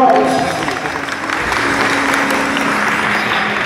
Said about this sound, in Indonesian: Tepuk tangan untuk penonton Bu Bakro.